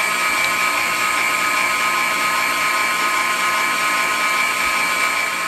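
A GeekChef stand mixer runs on low speed while mixing cheesecake batter, giving a steady, loud motor whine with a high-pitched hum that continues unbroken throughout, with no talking.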